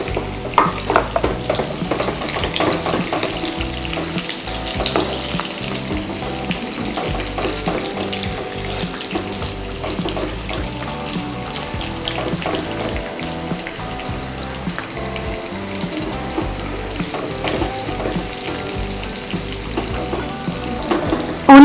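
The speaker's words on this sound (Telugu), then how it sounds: "క్యాప్సికమ్ కూడా బాగా ఫ్రై అయిపోయింది." Cashews, capsicum and onion fry in a pan for dragon chicken, giving a dense, continuous crackling sizzle close up, with occasional stirring scrapes and no talk.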